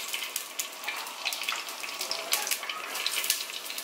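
Chopped onion hitting hot oil in a handi pot on a stove gives a steady, dense hiss and crackle that is close and continuous, with no talk.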